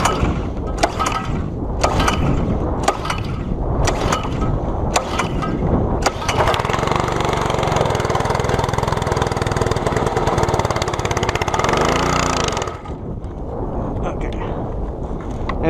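A Simpson MegaShot MSH3125 gas pressure washer engine is pulled several times, catches, and runs loudly and steadily for several seconds before settling to a lower idle.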